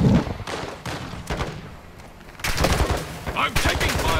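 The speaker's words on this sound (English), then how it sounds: "I'm taking fire." Gunfire in a shooter video game comes as scattered single shots and then louder rapid bursts that are close and heavy, mixed with other game sounds.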